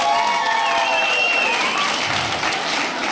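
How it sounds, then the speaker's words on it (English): A comedy club audience at a Dry Bar Comedy show claps together in steady, close applause that fills the room for a few seconds, with faint crowd murmur under it. "Clap if you don't like cats."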